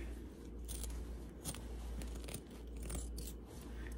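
Scissors snip through bulky fabric at the seam of a sewn floor pillow, with a few faint, spaced cuts heard close up over a low steady background hum.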